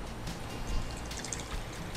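Water is poured into rava in a kitchen while making tale rotti dough, a close, uneven trickle and splash that rises and falls over two seconds without talk.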